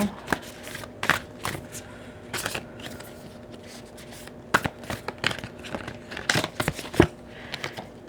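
Tarot cards shuffled by hand during a love reading, giving close, irregular bursts of papery riffling and snapping with short pauses between handfuls and no voices.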